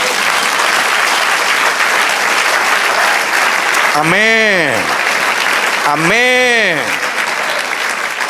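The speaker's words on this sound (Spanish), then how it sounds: "Den un aplauso al Señor." A church congregation applauds steadily and loudly throughout, with a voice calling out twice over the clapping.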